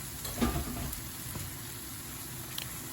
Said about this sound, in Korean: 빠르게, 빠르게 볶아줍니다